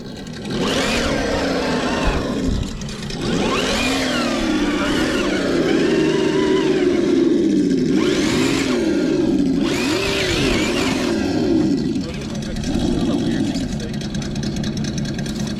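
A Traxxas TRX4 RC crawler's electric motor whines and strains as it climbs over rocks. The pitch rises and falls in repeated surges over a steady drone, with fainter bursts of other noise on top.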